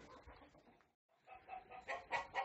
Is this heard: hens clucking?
yes